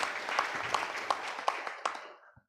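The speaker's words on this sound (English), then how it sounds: "Please clap for him." An audience applauds at a priest's 25th anniversary celebration. The claps are brisk, with a few sharper accents at a regular beat, and the sound tapers off to silence after about two seconds.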